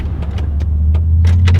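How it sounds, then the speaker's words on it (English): A 2G Mitsubishi Eclipse sits stalled with a steady low hum, while several short clicks and taps sound close by as the driver tries to restart the engine, with no talking. "I'm trying to start her back up."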